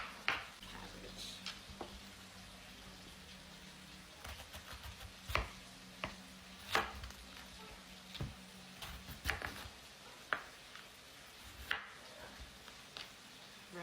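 A knife chops purple cabbage on a cutting board in a home kitchen, sharp irregular thuds and knocks at close range with scattered quieter taps between them, over a low background hum.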